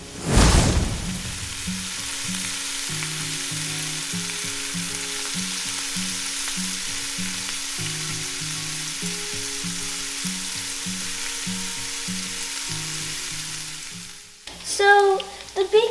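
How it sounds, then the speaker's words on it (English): Bacon frying in a pan gives off a constant, loud sizzling hiss that runs unbroken for most of the time, with a clatter at the start and a brief clunk near the end. "So the bacon is right now cooking"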